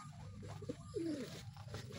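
A racing pigeon coos once or twice, soft and low, against a constant background hum, with some faint outdoor noise.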